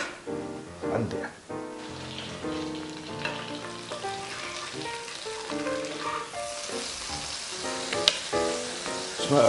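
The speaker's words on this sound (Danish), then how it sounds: "og stege i noget smør" Leeks frying in butter in a pan give a close, steady sizzle with crackles. A person talks over it at times, and a tool stirs the pan now and then.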